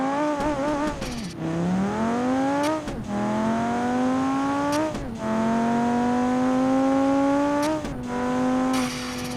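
A red 200bx car's boosted engine in the BeamNG.drive racing game revs hard toward 7,200 RPM, rising in repeated pulls with brief drops between gear shifts, loud and continuous with no talk.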